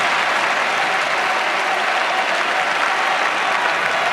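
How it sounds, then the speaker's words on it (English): Steady, dense applause from a large tennis crowd at the Roland-Garros final, loud and sustained with no pauses. "It's got the crowd going."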